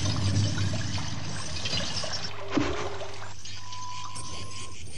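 Water trickles and splashes steadily in a fountain, a continuous close wash with a brief brighter splash midway and a faint tonal hum in the background.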